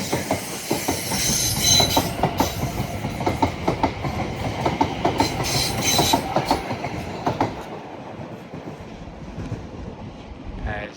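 A Southwestern Railway Class 701 electric unit pulls away from Clapham Junction toward London Waterloo, rhythmic clickety-clack of wheels over rail joints and a rushing rumble that gradually fades.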